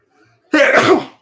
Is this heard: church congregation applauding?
no